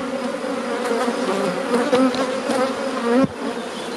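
Honeybees hum steadily at their hives during a spring colony inspection in Orava, a dense continuous buzz close by with individual bees droning past, briefly dipping near the end.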